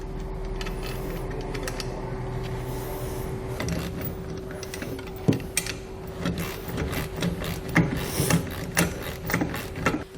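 Bolts and nylon lock nuts being tightened on a TowSmart trailer winch, giving a close, steady mechanical ratcheting and clicking with a few sharper knocks and clanks toward the end.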